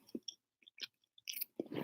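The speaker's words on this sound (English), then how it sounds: "Do you hear the crunch?" Close, crisp crunching as someone chews pizza topped with cheese, pineapple, olives and jalapenos, with several separate bites and chews in an irregular rhythm.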